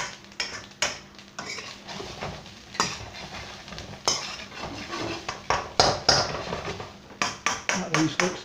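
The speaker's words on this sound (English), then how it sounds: "I like the noise that you get for a chef spoon" Metal chef spoon scraping and clinking against a pot while stirring cooked cumin rice, repeated sharp scrapes and knocks in an irregular rhythm, close and fairly loud.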